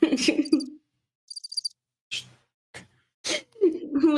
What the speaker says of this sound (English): Yeah, I have crickets.